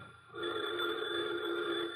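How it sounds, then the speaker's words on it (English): A telephone rings in an old-time radio drama, a steady electric ring that starts a moment in and holds at even loudness for the rest of the stretch. "pardon me, the phone's ringing."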